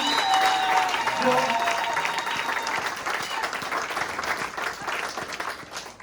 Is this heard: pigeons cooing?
no